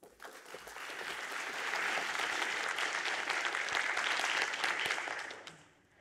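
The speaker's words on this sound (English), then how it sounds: "Round of applause for Sarah." Audience applause for a presenter at a Three Minute Thesis university competition, a dense, steady clapping that builds over the first two seconds, holds, then fades away near the end.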